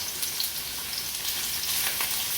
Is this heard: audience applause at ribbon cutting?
no